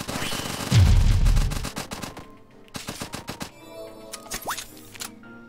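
Rapid automatic minigun fire rattles in a fast, heavy burst in the video game One Step From Eden, then fades into scattered shots and electronic game effects.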